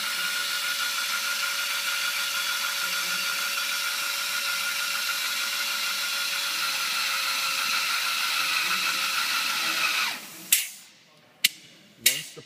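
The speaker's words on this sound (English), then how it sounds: "Once we have full engagement, the motor will stall out, shut off, and the operator can then begin the pressing portion of the cycle." An H&P crankshaft and seal press tool's motor whines steadily and loudly for about ten seconds, then stalls and cuts off, followed by a few sharp, separate clunks in near-silence.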